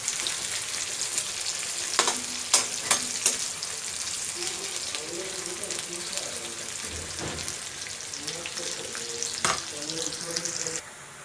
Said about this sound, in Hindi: इस तेल में तल लें।